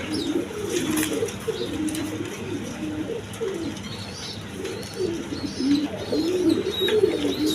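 Several pigeons coo continuously in a loft kept for sale, with breeding pairs, eggs and squabs, giving overlapping low throaty calls with occasional faint chirps, close and steady, no talking.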